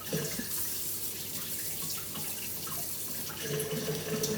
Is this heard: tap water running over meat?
yes